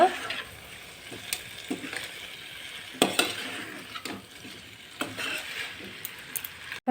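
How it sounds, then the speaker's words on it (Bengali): Noodles made from flour are stirred and mixed in a pan, with soft scraping, light sizzling and sharp clinks of a utensil against the metal at intervals, fairly quiet overall. "এইভাবে মিক্স করে নেব"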